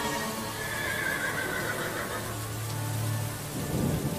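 A wild Mongolian horse neighing: a loud, drawn-out whinny with a wavering pitch, set against a rushing rain-like and rumbling background, no voices.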